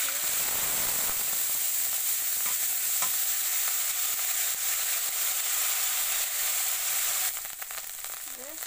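Onion paste frying in oil in a pan, a loud, steady hissing sizzle held close and constant, easing slightly near the end.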